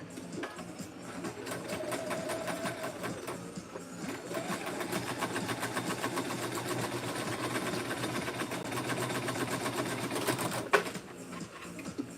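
A sewing machine fitted with a narrow presser foot runs a zigzag stitch on a cosplay bag, a close, steady rapid mechanical chatter that carries on for seconds before a brief clunk near the end.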